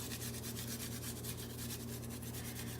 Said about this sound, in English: So what I'm going to do is just take this over the sweet potatoes and just grate it over top.